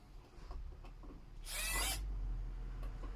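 A power drill whirs in one short, loud burst as it drives a screw into a wooden picket fence panel for a garden, with quiet handling noise before and after.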